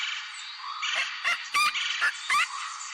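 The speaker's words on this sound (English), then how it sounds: "Pelican." A pelican call in a children's bird-sounds game: four or five short, harsh honks spaced irregularly over a constant background tone.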